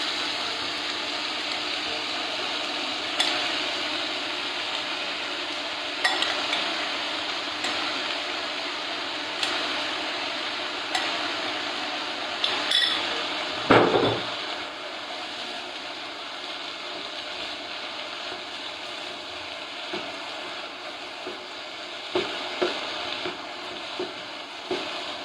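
Vegetables (bell peppers, mushrooms, zucchini and squash) sizzle steadily in a hot pan while being stirred, a continuous close frying hiss with occasional scraping knocks and one louder clatter midway.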